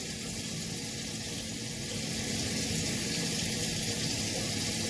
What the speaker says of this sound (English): Let's turn the water off.